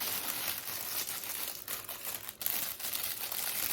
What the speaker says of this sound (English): Crinkle packaging. It's gonna be loud.